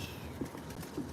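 Soft, low cooing from a nearby bird, two brief coos over quiet outdoor background.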